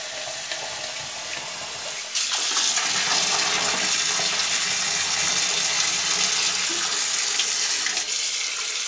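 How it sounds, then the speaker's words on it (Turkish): Tap water pours steadily into a bathroom drain, a broad close rushing splash that starts after a quieter moment and then runs continuously and loudly. "suyumuzu da açıyoruz. Özellikle bol miktarda su dökmemiz gerekiyor."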